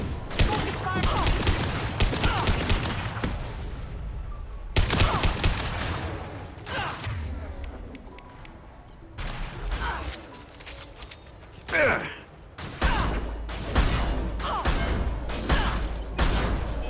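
Sniper rifle fire in the video game Mass Effect comes as loud, sharp blasts with mechanical clatter in several bursts, mixed with other game combat noise and someone talking over it.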